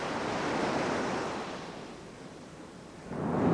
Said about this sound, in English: The wind's dropping and the waves are subsiding.